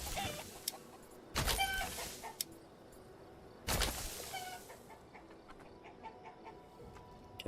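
Chickens cluck in the medieval city-building game Manor Lords, a quiet scatter of short harmonic clucks over soft ambient background, broken by two louder, broader bursts of activity, with no talking.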